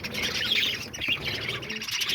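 Lovebirds, diamond doves, budgies and cockatiels squawk and chirp in a busy aviary, a continuous chatter of shrill calls close by without any talking.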